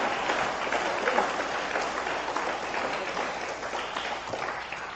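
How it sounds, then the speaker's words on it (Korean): A church congregation applauds during a worship service, with dense, moderately loud clapping that holds steady throughout the short stretch. "할렐루야, 할렐루야, 박수입니다."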